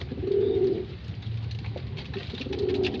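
A Taiwan-cross racing pigeon coos twice, a low soft burst near the start and another at the end, close by over a quiet room-like background.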